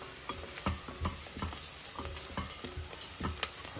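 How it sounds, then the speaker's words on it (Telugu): Garlic sizzling in hot oil in a pan for a masala multigrain kichidi, with steady frying hiss and repeated scraping clicks of a spoon stirring, close and continuous with no voices. "ఇప్పుడు మన వెల్లుల్లి లోపలికి వెళ్ళిపోతుంది."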